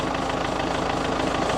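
A tractor engine labors and strains in deep snow while stuck frozen in place, a steady low rumbling drone with a knocking, vibrating pulse held at constant loudness throughout, close to the microphone.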